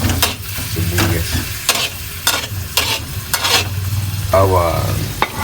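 Onions sautéing in a pan for adobong sitaw, a loud close sizzle with rhythmic scraping strokes of a spatula, a brief voice near the end.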